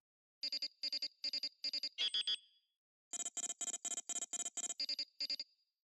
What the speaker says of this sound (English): For the player's ship locking on and off, I used a series of short, high-pitched beeps